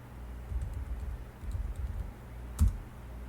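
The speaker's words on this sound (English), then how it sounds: "So type a different password for your root for your MySQL." A password is typed on a computer keyboard with a quiet, close run of soft irregular key clicks, ending in one sharper, louder keystroke.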